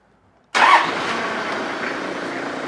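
A 1954 Ford F600 truck's diesel engine, glow plugs just cycled, cranks briefly with a loud burst and catches at once, settling into a steady, close idle that runs on without any talk.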